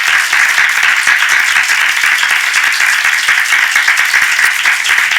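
Church congregation applauding during a Sunday morning worship service, a steady dense wash of many hands clapping throughout, close and fairly loud with no talk over it.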